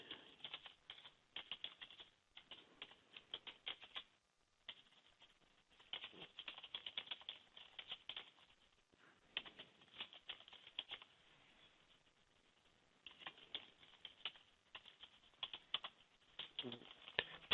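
Keys clatter on a computer keyboard in irregular bursts of fast typing with short pauses, close and fairly quiet, no one speaking over it.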